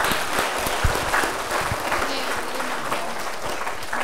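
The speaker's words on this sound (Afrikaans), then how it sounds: "Kom ons gee vir Liam 'n baie lekker hande klap, julle." An audience applauds for Liam on a seniors talk show, a steady, energetic round of clapping from many hands that fills the whole stretch at even loudness.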